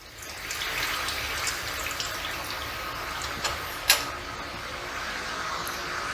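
A small sample tube is held under a running hot-water tap, giving a steady close hiss of flowing water with a brief clink partway through and no speech.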